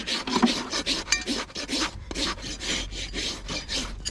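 A farrier's rasp levels a horse's hoof, trimming it so the foot balances evenly, with close, loud, rhythmic scraping strokes repeating steadily and no talk.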